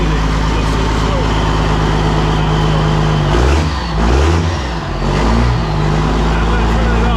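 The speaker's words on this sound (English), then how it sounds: "I'll rev it and you'll see the smoke." A 12-valve Cummins diesel in a Dodge Ram revs loudly, its deep rumbling idle swelling through two quick throttle blips before settling back, close and continuous.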